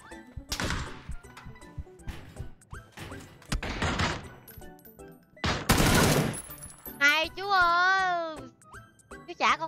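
Gunfire in the battle-royale game PUBG: several sharp, heavy shots and short volleys crack out in separate bursts, mixed with excited talking and a voice.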